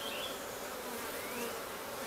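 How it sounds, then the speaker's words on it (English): Honey bees buzz steadily around hive frames of honeycomb, a dense close swarm hum that holds at a constant level with no voices. "Here are some bees collecting the honey that was in the comb here"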